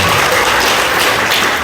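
Members of the Graceway Bible Baptist Church congregation applaud and cheer together, a dense, loud wash of clapping filling the whole moment.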